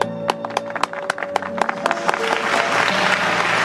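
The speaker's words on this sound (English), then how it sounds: "She started to applaud." A crowd in a room breaks into applause, starting with a few distinct claps and swelling within seconds into dense, continuous clapping with light cheering.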